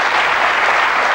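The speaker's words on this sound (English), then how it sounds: "Give him a nice clap there because we sent him off a bit cold," Studio audience at a 1982 Bullseye darts quiz show taping claps loudly and steadily, a dense, even wash of applause throughout the short moment with no voices over it.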